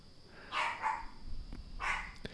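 A dog barks outdoors on a morning: a few sharp barks in two quick bursts, then another, moderately close with light background noise and no talk.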